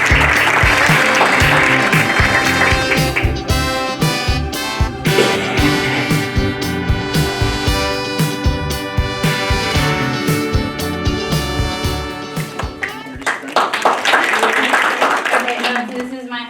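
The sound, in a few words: applause for Teacher of the Year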